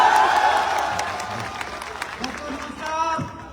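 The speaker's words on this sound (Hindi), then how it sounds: "अच्छा, ऐसे ताली होनी चाहिए अपने देश के लिए।" A seated audience at a wellness direct-selling event breaks into broad applause that fades over a few seconds as a voice starts speaking.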